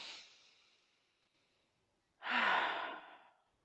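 A big, deep breath taken to relax: a faint exhale trails off at first, then after a pause comes a full, loud, breathy sigh close to the listener, with no speech.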